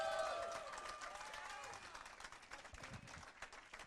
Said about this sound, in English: A couple more rounds of applause for Warehouse 23 for hosting us.